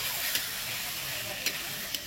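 Curry being sautéed in a pan with a little coriander leaf stirred in, giving a steady, close sizzling hiss broken by three sharp clicks of a spoon against the pan.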